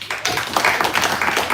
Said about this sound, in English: Can everyone give a round of applause to her?